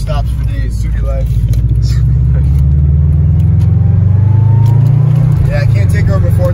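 A Subaru WRX running a freshly rebuilt engine drives along, a loud, close, steady engine rumble and drone with a slight rise in pitch, with people talking inside the car throughout.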